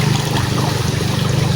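River water rushes in a steady, loud, continuous roar with a low churning rumble and no pauses or voices.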